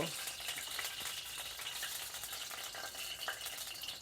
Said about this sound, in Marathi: आता आपल्याला डिंक थोडेसे फ्राय करून घ्यायचे आहेत की नाही तर थोडंसं आपण तूप घालून घेऊया